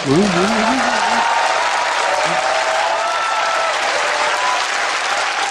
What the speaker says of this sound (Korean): 주진우 기자에도 박수 주시고.